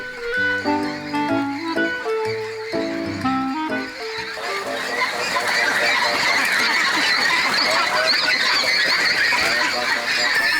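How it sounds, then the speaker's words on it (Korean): A crowded duck farm shed housing around 25,000 ducks: after a few seconds of music, a dense, loud, continuous chorus of overlapping quacks and honking calls fills the space. "오리 울음소리에 뒤섞인 묘한 소리"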